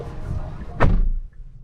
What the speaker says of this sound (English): let's see what the door sounds like.